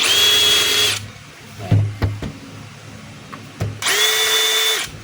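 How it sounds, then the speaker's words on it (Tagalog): DeWalt DCH133 20V cordless rotary hammer with a replaced front housing, whining at high speed in two bursts, each about a second long, with quieter clicks and handling knocks between them, loud and close with no voices. "Ito yung drill."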